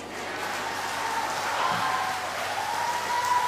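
A church congregation applauds in a broad, steady wash of clapping that fills the whole stretch at an even level, with no clear talk over it.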